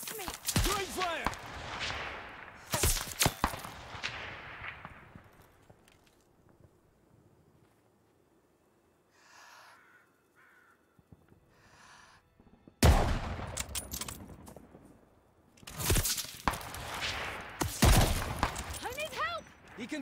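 Gunfire in the Call of Duty Vanguard campaign: loud close bursts and volleys of shots at the start, a quieter lull with distant sounds, then heavy fusillades resume near the end.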